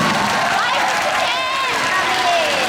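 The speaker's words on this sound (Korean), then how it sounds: "크게 박수 한번 쳐주시기" Audience applause fills a school auditorium at an anti-Japanese resistance music concert held at a girls' high school. The dense, steady clapping and crowd noise stays loud throughout, with voices mixed in.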